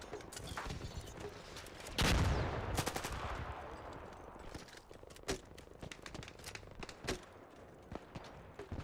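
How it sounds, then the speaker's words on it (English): The Bastion in the video game Arc Raiders fires in a loud burst, followed by scattered sharp gunshots and mechanical clatter at varying distances, with no voices. "Oh, it's the Bastion shooting over here."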